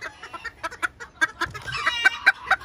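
Bantam chickens cluck in quick, uneven bursts, close and clear, with several birds overlapping in short rhythmic calls.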